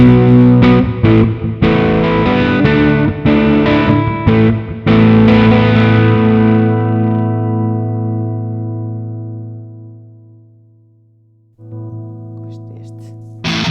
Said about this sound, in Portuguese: Se eu quiser mudar, por exemplo, de um Jazz Clean para um Twin Reverb, vou deixar aqui um bocado.